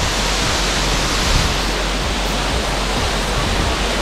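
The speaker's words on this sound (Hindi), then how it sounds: "ये देखिए मेरे पीछे वाटरफॉल, बहुत ही प्यारा वाटरफॉल है" A waterfall in a forest near Koraput, heard as a loud, constant rushing roar of falling water that fills the whole stretch with no break and no talk.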